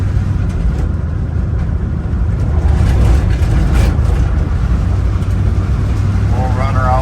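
A 1978 Ford Bronco with worn brakes drives along a road, its engine giving a steady low drone with road rumble throughout, loud and close, while a voice talks over it.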